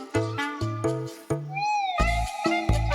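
A cat meows over and over in short, insistent calls with brief pauses, close and clear, mixing quick chirpy meows with one longer drawn-out cry, no talk.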